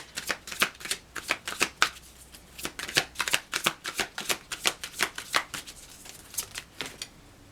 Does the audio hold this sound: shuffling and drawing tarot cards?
yes